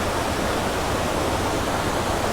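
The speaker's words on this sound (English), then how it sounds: "I've got a big waterfall in the background" A waterfall on Anglesey roars as a steady, dense wash of falling water, loud and close, filling the whole clip without a break.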